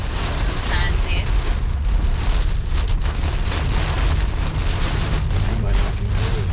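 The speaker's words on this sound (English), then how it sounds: "All the rain." Rain falls steadily on a car driving along a beach road between Surfside Beach and Garden City, South Carolina, with constant patter and hiss of drops and tyre spray on the wet road.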